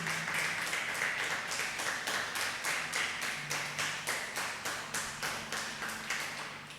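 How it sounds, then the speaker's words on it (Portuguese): A church congregation clapping in unison, a steady rhythmic beat of sharp claps roughly three per second, moderately distant in a reverberant room, with a held musical tone underneath. "Dá uma salva de palmas ao Senhor para você acordar aí."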